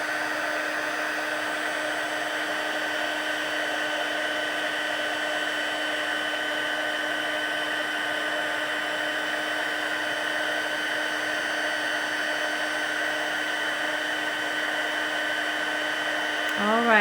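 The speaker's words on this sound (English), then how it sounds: "And now I'm going to go ahead and emboss this." A heat embossing tool blows steadily and loudly throughout, a constant whirring hum of a small heat gun drying embossing powder on a card strip at a craft table.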